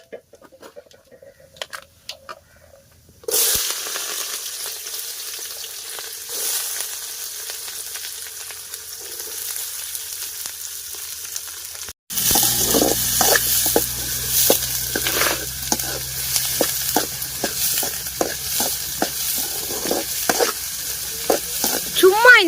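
Onions and tomatoes fry and sizzle loudly in a pan over a wood fire outdoors in a village, a steady close crackle with stirring scrapes, joined by a louder burst after a short gap, with faint chickens clucking in the background.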